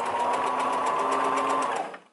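A sewing machine back stitches a zigzag seam on elastic, running as a steady, close whir for about two seconds before stopping.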